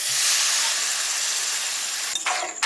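Water poured into a hot pan of frying mustard paste for a prawn and potato curry sends up a loud, steady steaming hiss, which shifts into a brief clatter and bubbling near the end.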